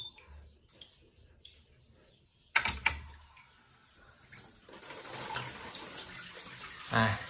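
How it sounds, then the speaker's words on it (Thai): A few clicks and taps, then water starts running from a tap on a water heater with a steady hissing splash that grows louder, close by. "น้ำไหลนะครับผม"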